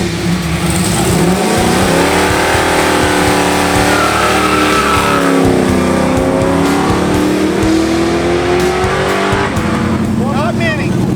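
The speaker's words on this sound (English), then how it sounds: "we decided to circle back and watch some other cars come through the box" Hot rod cars rev hard through a burnout box, engines climbing and falling in loud, sustained roars with tire squeal, close and continuous for over ten seconds while a crowd shouts over the noise.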